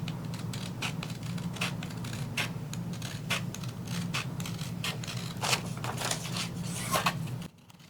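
Scissors snip through a sublimation print for a wind spinner, a quick run of sharp, close cuts repeating over a steady low background hum before stopping abruptly at the end.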